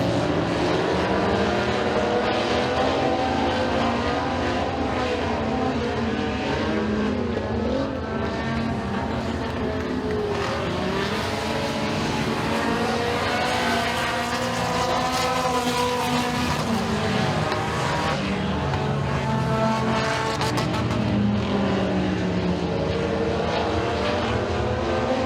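Race cars lap the dirt track at Eriez Speedway during heat races, their engines a dense, continuous roar that rises and falls as cars pass, loud and unbroken for the whole stretch.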